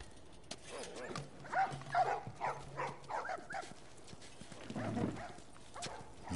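A dog in the video game The Last of Us barks a few times in quick succession, close by and fairly loud. The barks are surrounded by quieter game ambience.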